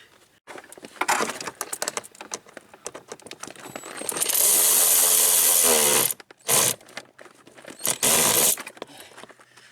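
A power driver whirs as it drives a screw into the cabin air filter box of a BMW 6 Series, with a long loud run followed by two short bursts, after some faint handling clatter.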